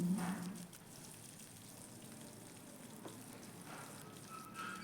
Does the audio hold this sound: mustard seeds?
yes